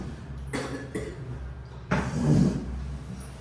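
Two or three short, rough bursts, like coughs, close by, with a faint low murmur underneath and quiet gaps between.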